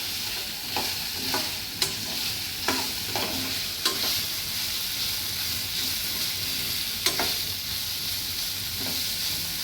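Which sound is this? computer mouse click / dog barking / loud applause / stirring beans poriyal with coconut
stirring beans poriyal with coconut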